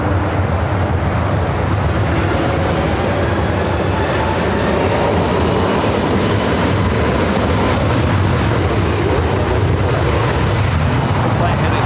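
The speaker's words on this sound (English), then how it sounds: "Have a Latam Dreamliner now heading up for a north side takeoff" A Latam Boeing 787-8 Dreamliner bound for Santiago takes off from the north side at Los Angeles LAX, making a loud, steady broadband jet roar that holds unbroken for the whole stretch.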